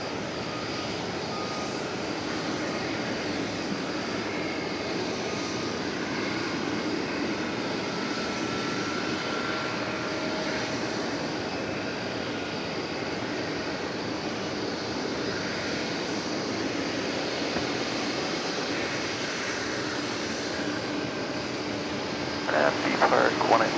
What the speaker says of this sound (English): We've got an Alaska Airlines flight going out to Portland, Oregon.